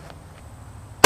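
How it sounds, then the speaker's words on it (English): A single loud, sharp crack of a Carcano rifle being fired outdoors, arriving abruptly near the end after a quiet stretch of faint background noise. "I just video skip to whenever I actually fire the rifle"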